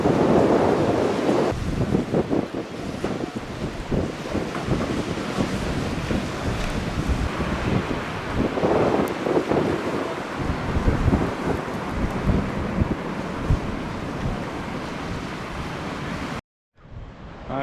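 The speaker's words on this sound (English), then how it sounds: "It's a bit chilly and a little bit windy for us" Strong wind buffets the microphone at Cala Major beach while surf rolls and breaks underneath, a dense, continuous roar with gusty swells, cutting out abruptly near the end.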